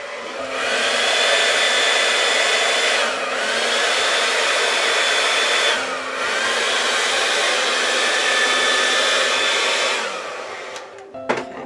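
A hair dryer blows steadily on resin to form cells, a loud continuous whirring airflow with two short dips where it pauses, then cutting off near the end with a few small clicks.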